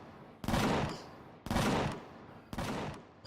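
Base defense guns firing at a drone in the video game Empyrion Galactic Survival: three loud, heavy bursts about a second apart, each a sharp blast that decays quickly, with no voices.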